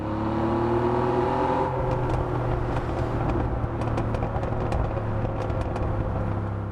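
A car in the racing game Test Drive Unlimited Solar Crown drones and revs at steady volume, its engine note shifting partway through, with sharp exhaust crackles and pops scattered across the second half.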